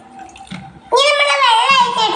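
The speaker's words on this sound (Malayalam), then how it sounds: "ഇനി നമ്മള് വെള്ളം ഒഴിച്ചിട്ടുണ്ട്" Water gushes into a cooking pot in a loud, continuous pour that starts abruptly after a quieter moment of faint background voice.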